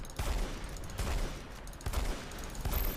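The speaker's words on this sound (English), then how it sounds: "pull out your pistol and do alternate fire to stun him out of it" Pistol alternate fire in the video game SiN Episodes: Emergence, heard as a fast run of sharp, loud gunfire bursts repeating across the clip with no talking.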